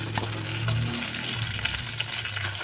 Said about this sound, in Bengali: ভাজতে ভাজতেই পটলটা অনেকটা নরম হয়ে যাবে।